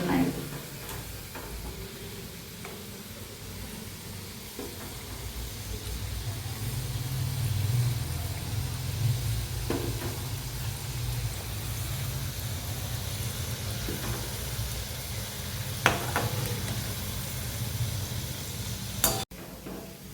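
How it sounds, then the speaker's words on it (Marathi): Onion bhaji (kanda bhaji) frying in hot oil over a very low gas flame, a steady soft sizzle and bubbling running throughout, with a few light utensil clicks and a sharp clatter near the end. "हिला तळून घ्यायची म्हणजे ती चांगली क्रिस्पी बनते"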